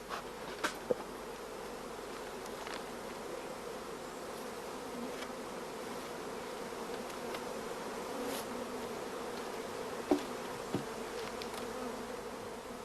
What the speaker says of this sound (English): The starter colony should be overflowing with bees